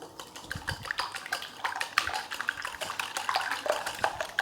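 Spices such as black pepper powder being mixed in a bowl for masala bread toast, with quick irregular clinks and scraping of a spoon against the bowl, close and fairly loud.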